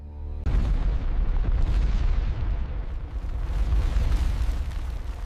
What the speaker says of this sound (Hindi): किले के सफेद बुर्ज में धमाका हुआ और वो टूट गया